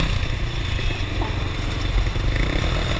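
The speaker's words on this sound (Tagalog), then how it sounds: "hindi talaga ako sanay makarinig na maingay na motor" A loud motorcycle engine on a Philippine street, a steady close rumble with a dense rattling idle that holds without pause.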